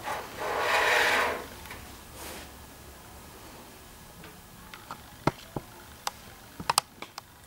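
A burnt nylon fibre sample crumbling between the fingers, giving a soft rubbing rasp early on, then a string of small, sharp crackling ticks close by, alone without talk.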